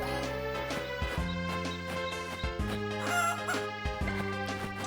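Chickens and a rooster in the farming video game Fields of Mistria give clucking, crowing-like calls over a continuous bright musical game backdrop.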